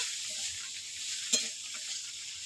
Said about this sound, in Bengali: এবার একটু নাড়াচাড়া দিয়ে দিবা।